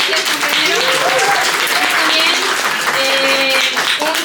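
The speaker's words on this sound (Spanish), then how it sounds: "Y también un super aplauso también para ustedes" An audience claps at a sociology event presentation. The applause is loud and sustained, with voices calling out and talking over it.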